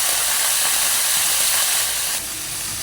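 Pork liver frying in hot oil in a pan for Filipino igado, a loud steady sizzling hiss that drops slightly in volume toward the end, with no talking.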